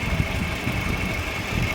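An electric sewing machine runs continuously, stitching along buckram with a steady, even motor whir and no pauses.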